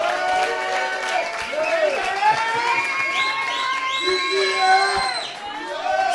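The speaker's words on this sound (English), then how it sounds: "I believe we can give the captain a bigger clap than that" A large crowd at a pool tournament final cheers, whoops and claps together, loud and sustained, with shouting voices rising above the applause.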